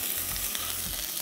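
Whole cumin seeds frying with browned onion and ginger-garlic paste, a continuous close sizzle with faint low stirring knocks underneath, no talking.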